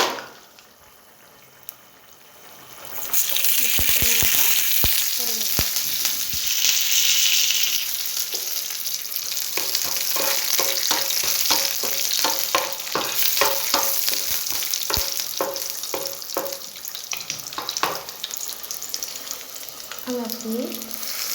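Mustard seeds spit and crackle in hot oil for a chutney tempering served with pongal, a loud steady sizzle with scattered sharp pops and a few stirring clicks; the first few seconds are quiet before the frying starts.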